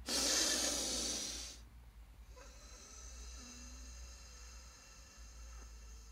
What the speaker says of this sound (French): On inspire et on expire tout doucement, le plus doucement possible que l'on peut.